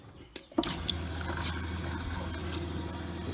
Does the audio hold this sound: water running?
yes